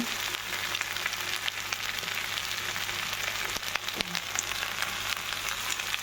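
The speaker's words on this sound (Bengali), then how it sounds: "এটা হচ্ছে ভাত ভাজা করে দেবো" Cooked rice fries in a hot pan with a steady, dense crackling sizzle up close, a few louder pops breaking through, and no voices.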